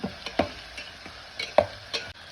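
Onion and tomato fry in oil in a pan, a low sizzle under a few sharp spoon knocks and scrapes spaced unevenly, close and unaccompanied by speech.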